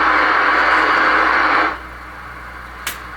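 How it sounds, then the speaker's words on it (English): An Icom IC-22A ham radio receiver hisses with loud broadband static for about a second and a half, then drops to a quieter background hum with a single brief click near the end. "So as you can hear, we got receiver static."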